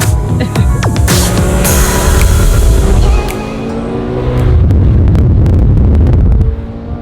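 Manual Ferrari Challenge Stradale engine revving hard with loud, sustained high-rpm roars that drop and climb again, close and alone.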